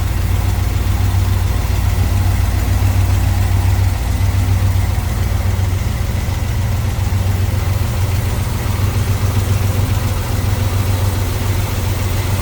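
A small-block Chevrolet engine in a 1976 Chevrolet Caprice Classic idles steadily up close, a deep continuous rumble with a low throbbing hum that stays even and loud for the whole stretch.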